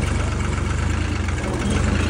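A New Holland 3630 tractor engine labours up a slope with a steady, loud, low rumbling drone, close by and without pause for a brief moment.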